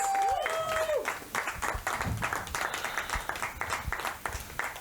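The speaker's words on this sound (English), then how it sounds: "Let's give everybody another round of applause." A comedy improv show audience gives a round of applause after a game, many hands clapping in a steady patter, while a short electronic tone sounds at the start.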